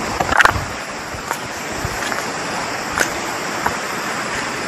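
River water running along the bank of the Muara river among large and small stones, a continuous broadband rush with a few brief splashes and knocks near the start and later.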